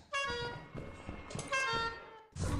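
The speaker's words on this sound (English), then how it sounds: "Wait, the honk sounded different." Horn honks in Minecraft, a Lethal Company style mod: several loud tonal blasts with a harmonic stack, separated by short gaps, with a final burst at the end.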